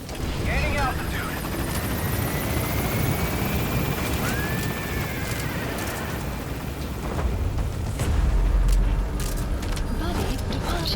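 Helicopter lifting off in Metal Gear Solid 5, a steady loud rotor and engine roar that fills the whole stretch, with game effects layered over it.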